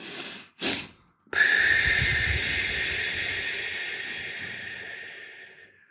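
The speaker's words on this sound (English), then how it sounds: "Physiological sigh, double inhale and long, full exhale." Two quick sharp inhales through the nose, a brief pause, then one long, steady exhale that gradually fades out, close and alone.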